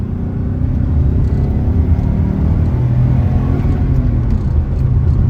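A JDM turbo car accelerates hard in third gear from about 3,500 RPM, its engine a loud, steady rising roar heard up close with no talking.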